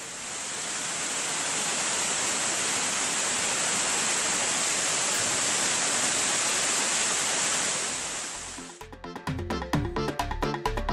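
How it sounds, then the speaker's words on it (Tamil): Kumbakkarai waterfall in heavy flow after heavy rain, a loud, steady roar of falling water for about eight seconds before it cuts to other sounds. "இதனால் கும்பக்கரை அருவியில் தண்ணீர் ஆர்ப்பரித்து கொட்டுகிறது"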